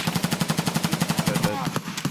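Automatic gunfire in the video game Escape From Tarkov: a loud, close, rapid burst of roughly fifteen evenly spaced shots, followed by a few scattered single shots.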